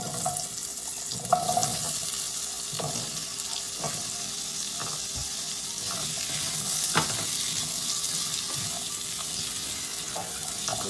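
Chopped green mango for a sweet-and-sour mango sabji roasting in a pan, a continuous moderate sizzle with irregular scraping and clinking of a spatula stirring, a louder knock now and then, no voices.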